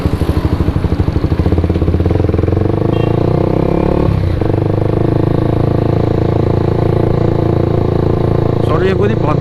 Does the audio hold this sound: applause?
no